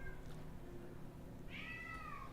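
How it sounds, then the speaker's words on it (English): A pet cat meows once, faint and slightly distant, over a steady background hum of game audio. "You can hear my cat, maybe."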